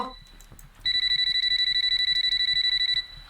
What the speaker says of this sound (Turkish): Şu alarmı uzun yapalım.